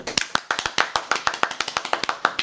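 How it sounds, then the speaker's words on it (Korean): Hands clap to welcome a guest, about two dozen sharp, close claps in a quick, slightly uneven rhythm, with no talking over them. "박수로 환영하도록 하겠습니다. 박수!"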